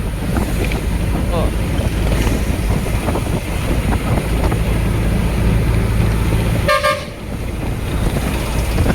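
Street traffic of cars and tractors in the town of Lalpur near Jamnagar, heard as steady engine rumble under heavy wind buffeting the microphone, with one short, clear horn toot near the end.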